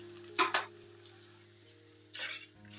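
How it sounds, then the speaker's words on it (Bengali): Onions frying in a pan (kadai) for tempering dal, heard as soft sizzling with a couple of brief bursts of louder spattering and stirring, faint and close, with no talking. "আর এদিকে হচ্ছে আমি পেঁয়াজ ভাজি, ডাল সম্বার দেবো।"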